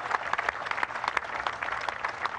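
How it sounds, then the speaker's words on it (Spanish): A large crowd at a political rally honoring Venezuela's armed forces and defense minister breaks into sustained applause, thick continuous clapping at steady loudness throughout, with no speech over it. "a quien pido un aplauso al general en jefe Vladimir Padrino, ministro de la Defensa"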